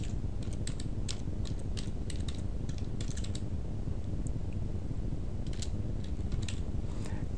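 Keys tapped on a computer keyboard while entering a field name in a database table, coming in quick irregular bursts of clicks with short pauses, close and fairly soft over a steady low hum.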